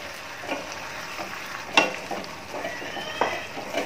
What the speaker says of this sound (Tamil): இதையும் நல்லா கலக்கி விட்டுடலாம்.